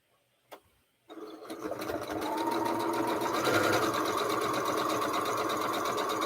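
Sewing machine stitching quilt pieces, starting after a small click and settling into a steady, fast whirring hum up close, with no talk.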